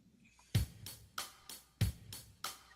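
A programmed drum pattern for a song's bridge section plays back from Drum Chart Builder. Strong kick hits land with lighter, evenly spaced beats between them in a steady groove, quiet and clean.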